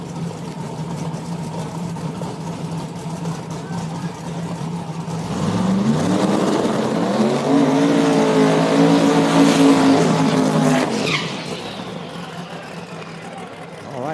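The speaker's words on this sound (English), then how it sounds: "So drivers just completed the burnouts." Small-tire drag race cars in a burnout box at Beech Bend Raceway Park, one with a turbo, rumble at a loud steady idle, then roar and rev hard in a long sustained burst before dropping back to idle.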